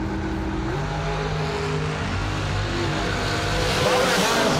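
A 2013 American Chassis dragster launching at the New Year Nationals drag race, a loud, steady engine roar that holds throughout and swells slightly toward the end, with faint voices in the background.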